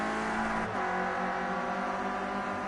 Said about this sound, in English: And here the revs hitting the limiter there.